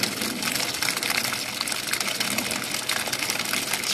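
A Hobie Outback kayak's self-contained automatic bilge pump pushes a steady gush of water over the side at an angle, a constant splashing flow at close range with no talk.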